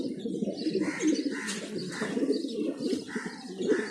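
Mundian pigeons coo in a steady, close chorus of low throaty calls, with soft chirps and occasional wing rustles mixed in.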